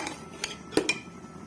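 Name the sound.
mutton being stirred and roasted in milk in a pot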